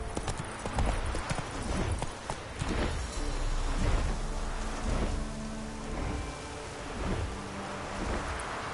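Hooves of Roach, a horse in a PS4 video game, clop in a steady galloping rhythm beneath heavy rain and rolling thunder, all fairly loud and close.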